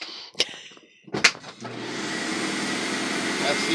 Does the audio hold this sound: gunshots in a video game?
no